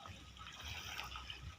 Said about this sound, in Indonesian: Ini kita penyiraman lagi